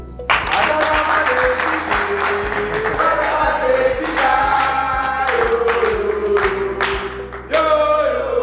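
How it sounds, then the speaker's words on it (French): A studio audience at a televised public debate in Sakania claps and cheers steadily while music plays underneath, and the applause swells again near the end. "Il s'agit de monsieur Kevin Temawantema que nous invitons sur ces plateaux sous vos applaudissements."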